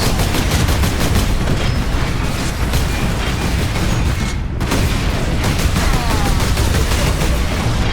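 Dense, continuous gunfire and explosions while fighting Orks in the video game Space Marine: loud, unbroken rapid shots and booms filling the whole stretch, with no talk.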